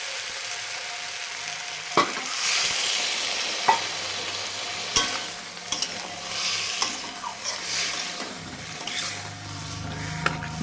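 Vegetables and fried lentil dumplings sizzle in a pan for vegetarian Bengali shukto. A spoon stirs with intermittent scraping knocks against the pan over a constant frying hiss.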